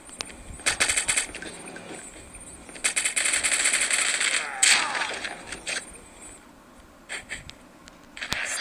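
Automatic gunfire bursts in Call of Duty Mobile, several sharp rapid volleys of varying length separated by brief pauses, loud and close, with faint game sounds between.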